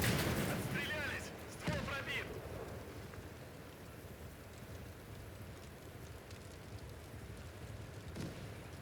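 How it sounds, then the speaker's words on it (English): Distant muffled mine explosions thud now and then under a steady rumbling, crackling soundscape in the war game Call to Arms: Gates of Hell, with a louder sharp blast near the start. "I can hear explosions from mines going off, which I find rather funny."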